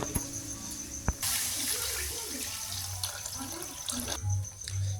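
Water gushes and splashes into a cooking pot of spices for a few seconds, between clanks of cookware, with faint voices in the background.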